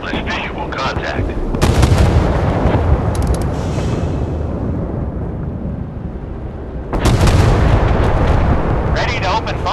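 Warship naval guns firing on an enemy in the video game Force of Warships: heavy booming salvos with rolling, thunder-like decay, loud and close, with a second blast volley near the end.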